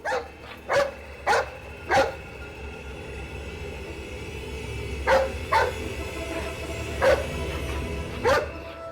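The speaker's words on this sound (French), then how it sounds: "C'était un chien de chasse," A hunting dog named Dingo barks in sharp bursts, two or three at a time with pauses between, over a steady low background hum.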